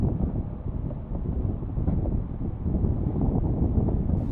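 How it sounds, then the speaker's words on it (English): Wind rises across a lake aboard a Potter 15 sailboat, buffeting the microphone in a continuous loud rushing roar with no voices. "just as the wind is starting to pick up a little bit"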